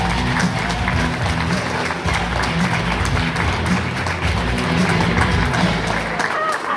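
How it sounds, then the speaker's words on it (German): A studio audience at a German television singing competition gives loud, dense applause to welcome a jury member. The clapping and crowd noise form a steady roar from start to finish with no pauses. "Ich begrüße Sie mit einem heftigen Applaus. Alexander K."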